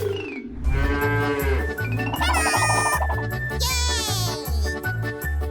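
On a farm, a cow moos in a long drawn-out call over a steady pulsing musical backing, loud and close, with no one talking.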